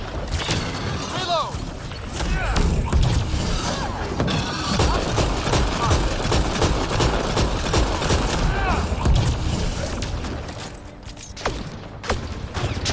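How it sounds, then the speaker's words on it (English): Gunfire in Mass Effect Andromeda on Insanity difficulty during jungle exploration: a steady stream of shots and impacts under game noise, with voices speaking through it. "Who's shooting at me?"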